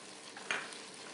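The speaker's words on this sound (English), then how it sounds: "while this pan's hot and the meat's browning, I'm going to stir those in" Beef and one large onion brown in a hot pan with a steady close sizzle, and a single scrape of stirring rises briefly above it.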